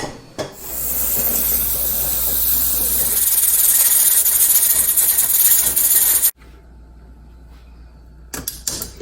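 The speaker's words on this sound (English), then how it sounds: "you can see how this All-American pressure canner works" An All-American pressure canner loaded with beef hisses steam loudly and steadily for several seconds, then cuts off abruptly, leaving quiet with a few faint clicks and rattles.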